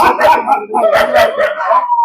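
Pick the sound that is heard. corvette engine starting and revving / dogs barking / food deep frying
dogs barking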